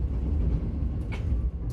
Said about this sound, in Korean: 덜컹대는 소리에도 아직 잠이 덜 깬 듯한 열차 안.